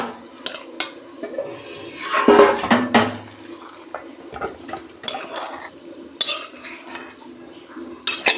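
Cooked dry bottle gourd curry being scraped and poured from a metal pan into a dish, with repeated clinks and scrapes of utensil on metal and a louder clatter midway, close by, no talk.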